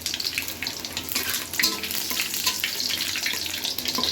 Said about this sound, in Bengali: একটু ভুনো ভুনো ভাজা ভাজা হয়ে গেলে এর মধ্যে দিব একটু পাঁচফোড়ন।